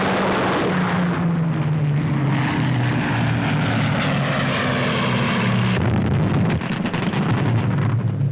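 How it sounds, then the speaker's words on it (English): A steady, heavy drone of WWII four-engine propeller bombers, Lancasters, Halifaxes, Wellingtons, Manchesters and Stirlings, loud and continuous, with a slowly shifting pitch as the planes pass. "the continuous drone of Halifaxes, Wellingtons, Manchesters, and Sterlings off to smash German industry, just as Hitler's invasion fleet was smashed"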